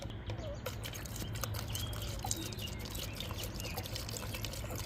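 Cleaning liquid is poured over skateboard bearings, giving a soft, faint watery trickle and a few drips against a quiet, hissy background.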